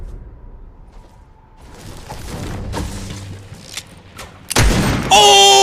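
Scoped revolver shots in a first-person shooter video game: a few heavy booming blasts rise from a quieter stretch, the loudest near the end, with game effects and some talk around them.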